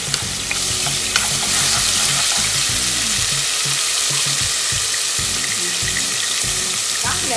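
Garlic fries in a spoonful of oil in a pan for macaroni sauce, giving a loud, constant close sizzle with occasional stirring scrapes and no voices.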